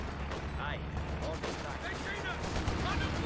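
Sniper rifle shots ring out in a Company of Heroes match on the Eindhoven map, with scattered sharp cracks over steady battle noise and a voice speaking throughout.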